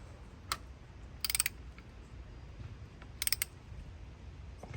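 Bolts being tightened on the engine of a 1952 Ford 8N tractor with a ratchet wrench: two short, quiet bursts of rapid clicking about two seconds apart over low background hum, with no talking.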